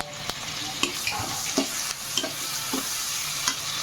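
Mustard seeds crackle and sizzle in hot oil, with scattered small pops over a constant frying hiss, close up.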